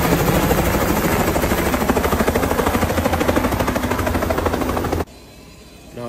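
A helicopter transporting a donor organ roars loudly and close, its steady rotor chop and engine drone continuous for about five seconds before cutting off to a quiet background.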